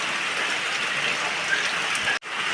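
Steady rain falls on a pig farm in the rainy season, a dense, even hiss close by that cuts out abruptly near the end and then resumes.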